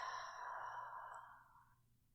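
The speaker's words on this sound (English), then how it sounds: "take a deep breath in through the nose and out through the mouth" One soft, drawn-out exhale through the mouth, faintly voiced like a quiet sigh, slowly fading away over about two seconds.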